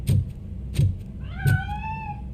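In the RoboCop: Rogue City video game, three low thumps lead into a clear, rising cat meow that lingers near and distinct.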